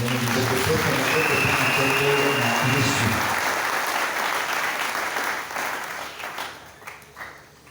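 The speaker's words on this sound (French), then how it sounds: "Tu vas acclamer pour nous." A church congregation cheers and applauds loudly for about three seconds, then the clapping thins into scattered claps and fades out.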